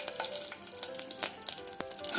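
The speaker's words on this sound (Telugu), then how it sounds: "ఇది ఇలా వేగుతున్నప్పుడు కొద్దిగా కరివేపాకు వేసి ముందుగా తరిగి పెట్టుకున్న వంకాయ ముక్కల్ని వేసుకుందాం." Brinjal pieces and curry leaves sizzle in hot oil in a pan, a busy crackling fry with scattered pops and spatters, fairly soft and close, with no voices.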